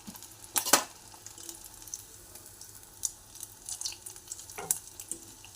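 Small Bombay duck (lote fish) koftas fry gently in oil, giving a soft crackling sizzle with a few sharper spatters and light stirring scrapes, close up and fairly quiet with no talking.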